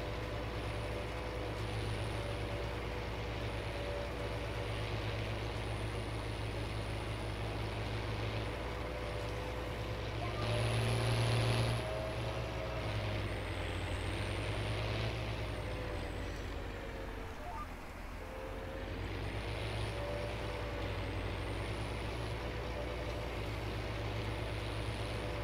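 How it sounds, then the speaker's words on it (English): A farm tractor pulling a seeder across a field for sunflower planting drones steadily and loudly throughout, a continuous low engine rumble that swells slightly at moments and holds without pause. "This tractor is definitely getting a workout."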